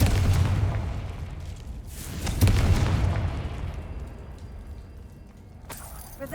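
A Confringo blasting curse detonates in Hogwarts Legacy, a heavy booming explosion that erupts twice in quick succession and then rumbles away, with no voices over it.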